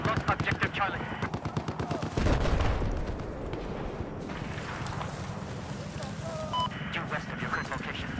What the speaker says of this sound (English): there appears to be an enemy machine gunner